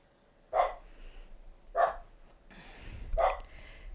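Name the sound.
dog barking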